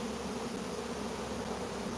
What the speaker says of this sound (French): Et un essaim qui se forme ici.